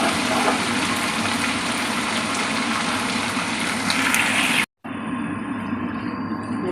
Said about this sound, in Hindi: अब हमने जो यखनी इसमें से लगा दी थी वो इसमें डाल देते हैं।